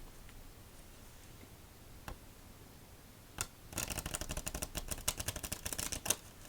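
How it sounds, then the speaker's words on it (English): Near-quiet at first with a couple of soft clicks, then a quick burst of rapid fluttering snaps as a deck of playing cards is riffle-shuffled. "Time for our victory shuffle."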